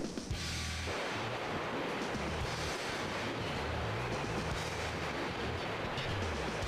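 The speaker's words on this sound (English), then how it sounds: "I hear water rushing." Rushing water in Sonic Adventure DX forms a steady, dense wash that fills the whole stretch without pause, with a low rumbling game loop underneath and no voices.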